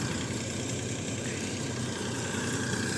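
A combine harvester engine runs steadily while threshing pumpkin seeds, a loud, continuous rumble with mechanical clatter heard close and without speech.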